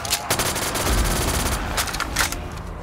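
Dense automatic gunfire in Black Ops 3 custom Zombies, a loud, continuous stream of rapid shots with a few heavier bursts, close up and steady throughout.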